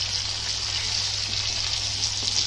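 Tomatoes cooking down in a pan for a cauliflower and pea sabji, an even, moderate hiss of sizzling with a low steady hum underneath, continuous and unvoiced.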